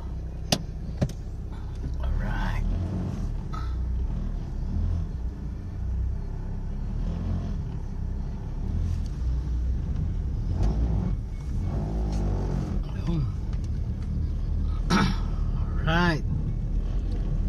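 A Mitsubishi Lancer with a 4G15 engine drives on a test drive after basic maintenance, its steady engine rumble heard from inside the car under ongoing talk, with a few knocks and bumps.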